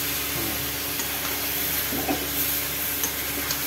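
Chicken kosa sizzles and fries in a pan, a constant loud hiss with a bubbling crackle and occasional soft stirring scrapes, close up and steady throughout.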